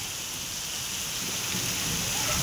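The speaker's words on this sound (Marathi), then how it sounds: "असा राजकन पाऊस पडतोय" Heavy rain pours steadily during a cricket match, a dense unbroken roar of falling water with a low rumble of thunder underneath, loud and constant throughout.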